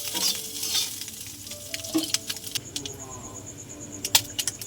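Nigella seeds, green chillies and onion sizzle and crackle in hot oil with scattered bright pops and clinks of stirring, fairly close, no one speaking.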